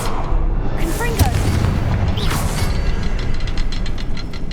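A Confringo fire spell explodes in Hogwarts Legacy, a loud, dense, roaring blast that fills the whole moment with rumbling noise and crackling debris.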